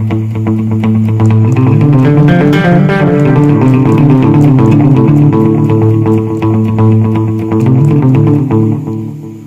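Guitar fed through a Tonal Recall delay pedal set to dotted-eighth repeats, with notes cascading into a dense, rhythmic wash of echoes. The sound is loud, close and continuous, and no voice is heard.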